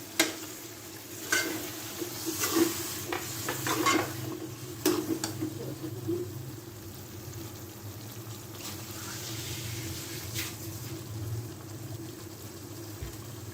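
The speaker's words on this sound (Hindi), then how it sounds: "और इस मसाले में जो है हम अपनी फ्राई की हुई आलू और अरबी डाल देंगे।" Fried potatoes and taro are stirred into masala in a kadai, a soft sizzle under occasional scraping and clinks of the spoon against the pan, close and fairly quiet.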